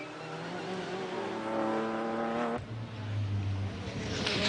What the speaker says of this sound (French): Toyota équipé d'un V8 turbo.